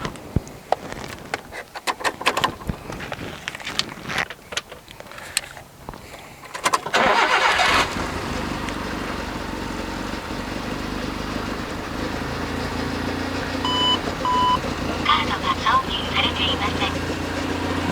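A modified Nissan Figaro show car with a manual swap cranks and catches, rough shuffling noise giving way to a steady close idle, with a person talking over the engine.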